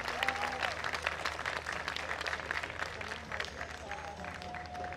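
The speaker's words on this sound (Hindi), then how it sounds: "एक बार फिर बरसात के लिए तालियां हो जाए" An audience claps at a media group launch and opening ceremony, the applause fairly faint and distant. A few voices and a thin tone run through it.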